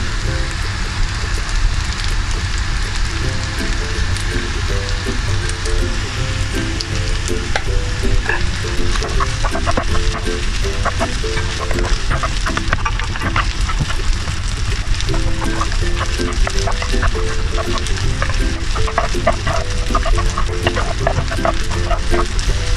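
Fried rice is stirred in a hot pan after salty Bangka soy sauce and sweet soy sauce go in, giving a steady loud sizzle with continuous scraping and tossing clatter throughout, without talk.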